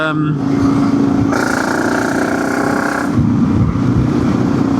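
A BMW G650GS Sertao engine with a GR Moto aftermarket exhaust drones steadily nearby with a throaty exhaust note, rising in pitch partway through, then settling back to a lower hum.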